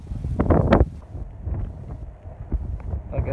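Gusty outdoor wind buffets the microphone at an opal mining claim in Virgin Valley, Nevada, producing low rumbling bursts that rise and fall, strongest in a loud gust near the start.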